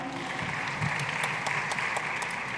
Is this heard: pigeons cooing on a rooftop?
no